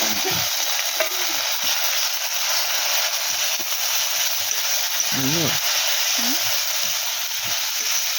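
Spice paste with turmeric frying and being stirred in hot oil for a potato curry, a steady loud sizzle throughout with brief scraping stirs and faint voices in the background.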